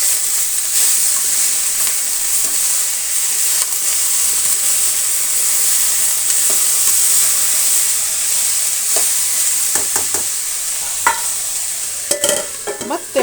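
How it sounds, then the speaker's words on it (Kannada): Ivy gourd being stir-fried in a pan, a steady loud sizzle with scraping and clacking of a spatula stirring, several sharper knocks near the end, no voices. "ಹಾಗಾಗಿ ಕಲಿಸ್ತಾ ಇರೋಣ."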